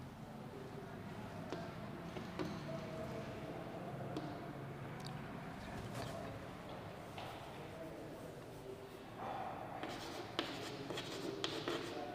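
Chalk or marker scratching across a board during a Hindi chemistry lesson on electronic configuration, a soft continuous scribbling with small taps, steady and close throughout.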